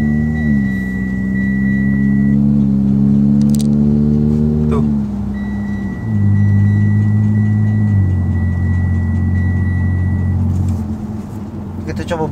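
Modified Mitsubishi Saber wide-body car labouring up a steep slope, its engine droning loudly nearby, rising in pitch then dropping as gears shift, with a faint high whine over the top.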